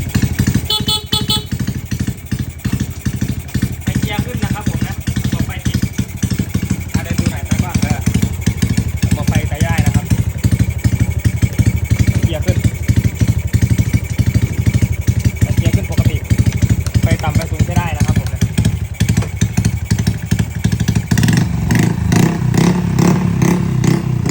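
A used Honda Wave 110i LED motorcycle's single-cylinder engine runs after a kick start, close and loud, with rapid chugging firing pulses and rises in revs, while someone talks over it.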